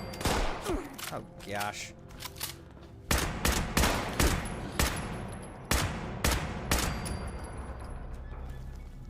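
Single-fire weapon gunshots in a wasteland video game, a steady run of sharp, loud reports fired one at a time with a brief burst of voice near the start.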